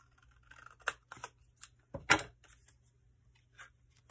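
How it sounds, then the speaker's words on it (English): Scissors trim an artist trading card in half, a short run of crisp snips with one louder cut in the middle, close and clear with no talking. "I will trim this one in half"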